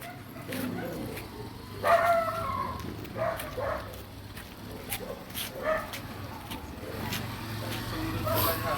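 A car passes along a road in Barangay Bagtas, Tanza, its engine rising and fading over several seconds while dogs bark and yip nearby and voices talk in the background.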